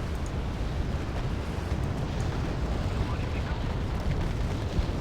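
Dense, continuous rumbling rocket blasts and booms in the video game Wargame: Red Dragon roll on without a break, loud and heavy, like a barrage of explosions; no distinct speech.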